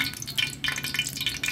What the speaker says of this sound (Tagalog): Tumutunog na ang mantika.